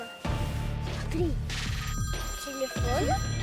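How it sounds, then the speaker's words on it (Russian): A telephone rings steadily and continuously in a woodland setting, while people talk and exclaim over it throughout. "Телефон?"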